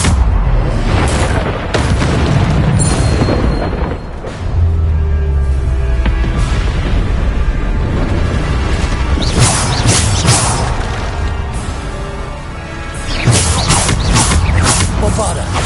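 Bombarda blasting spells going off in the video game Hogwarts Legacy, a dense run of booming crashes and whooshing bursts over a continuous loud background of game effects and music.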